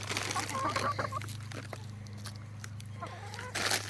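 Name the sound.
backyard chickens clucking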